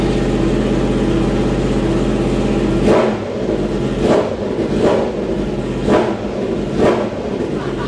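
A Kawasaki H2 motorcycle engine idles steadily, then is revved in a series of short, loud bursts, roughly one every second, each falling back toward idle.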